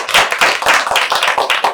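Audience at a youth parliament group discussion clapping, a brisk, dense run of hand claps from a nearby crowd, steady and lively throughout with no talk.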